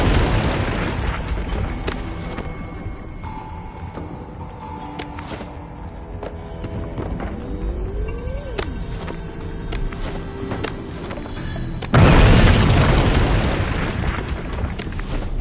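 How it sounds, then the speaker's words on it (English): In the We Happy Few video game, a tower is blown up with a single loud, deep boom about twelve seconds in, rising out of quieter game ambience and fading into a rumbling tail. "I think they're going to blow up the tower."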